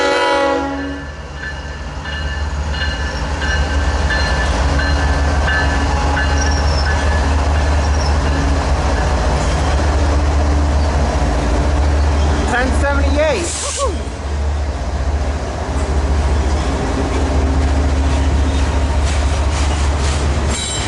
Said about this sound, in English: there's an H1 trailing fourth on this outbound Z train right now.